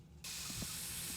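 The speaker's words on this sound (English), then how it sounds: "Have a quick P-word, have a quick drink, quick mosquito spray" Mosquito spray fires in the video game My Summer Car, a sudden steady hiss of aerosol that starts sharply and holds for about a second, close and alone.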